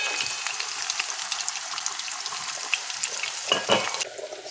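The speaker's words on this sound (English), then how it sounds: "In goes the onion at first. And you want to fry this up a little bit" Onion frying in a pan, a bright continuous sizzle and crackle heard close up, with a few clinks and scrapes toward the end before it quiets.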